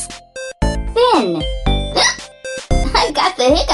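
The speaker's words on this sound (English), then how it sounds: "I've got the hiccups." Short, abrupt hiccups pop out between bursts of a child's chatter, several sharp catches scattered unevenly across a few seconds, close and loud.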